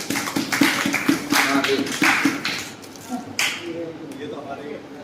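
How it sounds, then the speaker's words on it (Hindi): An audience at a Hindi religious recitation class breaks into loud, sustained clapping, a dense patter of hand claps running under speech before it thins out. "चलिए, बहुत बढ़िया, जोरदार ताली रही है।"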